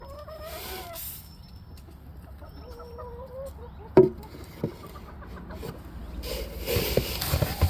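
Farmyard chickens cluck in a few drawn-out calls, moderate and fairly close, with a sharp knock and some rustling later on; no talking.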